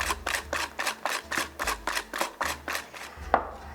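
Eggs whisked into batter for a strawberry kolac, steady rhythmic beating strokes against a bowl, close and evenly paced, about two per second.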